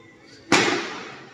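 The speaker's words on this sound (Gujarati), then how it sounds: "ફટાકડા ફૂટે છે ને." Diwali firecrackers going off nearby during the Navratri festive season, a single sharp loud bang with a crackling fizzling tail that fades over about a second.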